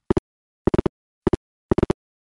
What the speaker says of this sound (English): a real rotary dial sounds like this